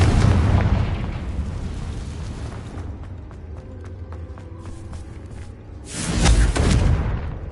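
Confringo blasting spell going off in Hogwarts Legacy: a broad rumbling blast opens, decays into a crackling tail with scattered ticks, then a second loud burst lands near the end.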